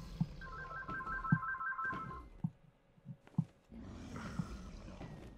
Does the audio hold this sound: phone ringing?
yes